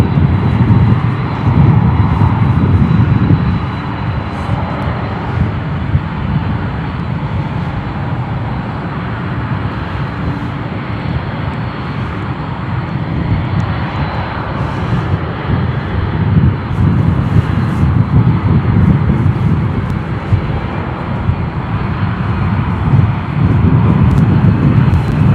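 Airliner departing Chicago O'Hare's runway 10 Center bound for Seoul, a loud, steady jet engine roar and rumble that swells and holds close by for the full stretch, with no talk over it.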